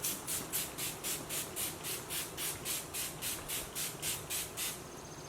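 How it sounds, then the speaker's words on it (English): Facial toner mist of rose water, aloe and witch hazel sprayed onto the face, a rapid series of about fifteen short, close, breathy hissing puffs in a steady rhythm with no talking. "You just spray it all over your face."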